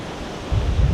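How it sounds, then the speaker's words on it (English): Surf breaks at the edge of an evening beach at Carolina Beach, a soft wash of noise swelling into a louder, rumbling crash of breakers with some wind buffeting. "right there where the breakers are coming in"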